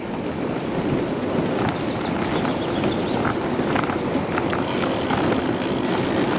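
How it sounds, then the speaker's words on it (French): Strong headwind buffets the microphone while cycling along the Canal du Midi, a constant loud rushing roar filling the whole stretch with no talk over it. "Ouais, t'as un vent de face, hein."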